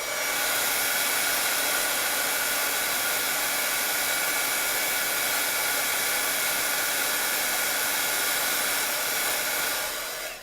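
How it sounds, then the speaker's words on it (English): A craft heat tool blows steadily with a loud, constant airy roar for about ten seconds, then cuts off at the end. "we'll pull out the heat tool and heat this up. And it's going to be noisy"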